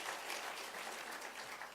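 Audience clapping at a university law school launch, a dense, even burst of many hands applauding from a crowd that fills the whole short stretch.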